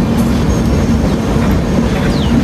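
The Mandovi Express rolls along the Mumbai–Goa line through monsoon hills, its wheels and carriages producing a loud, constant rumble with a steady hum and faint metallic squeals, heard close up with no talk.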